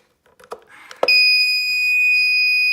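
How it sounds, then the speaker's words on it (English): A USB power meter or lithium charger unit sets off a piercing, continuous electronic beep tone after a few brief knocks and clicks, loud and near and held steadily until the end. "And it's beeping already,"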